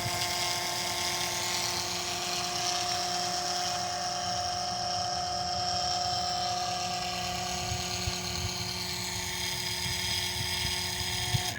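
A small electric oil extractor pump runs steadily beside a Mercedes S550 during an oil change, drawing hot oil into jugs. The motor gives a constant, fairly loud whine and hum with no pauses and no talking.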